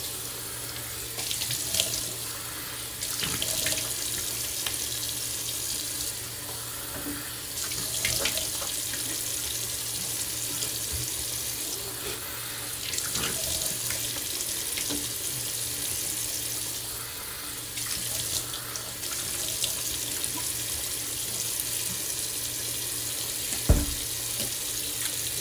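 A bathroom tap runs steadily into a sink while someone rinses off a Proraso-style shaving product, a constant close hiss of flowing water with small splashes and a sharp knock near the end.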